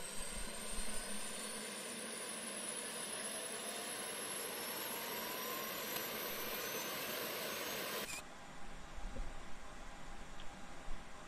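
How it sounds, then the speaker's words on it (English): The auxiliary power unit in the tail of an Airbus A320 spools up in Flight Simulator X, a steady rising jet whine and roar heard from outside, then abruptly cutting to a quieter rumble. "You can hear the APU starting up in the tail of the plane."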